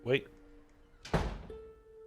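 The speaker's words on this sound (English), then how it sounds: "Why'd the door just shut?" A door shuts with a single solid thump partway through, amid brief speech and a faint steady electronic hum.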